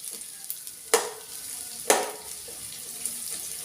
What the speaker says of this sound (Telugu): కొంచెం ఆనియన్ వేగాలి.